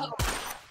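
A single sharp gunshot bursts out in a Roblox duel, loud and close, with a short ringing tail that fades within half a second.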